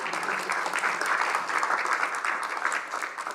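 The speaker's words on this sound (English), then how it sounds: "Give a round of applause." A lecture audience gives a round of applause, steady, close, dense clapping that holds evenly throughout.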